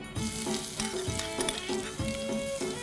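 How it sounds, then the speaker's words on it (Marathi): Garlic crackles and sizzles steadily in hot oil in a pan, a close, continuous frying hiss, with faint clinks and stirring sounds at intervals. "आता या तेलामध्ये मी हा लसण घालते"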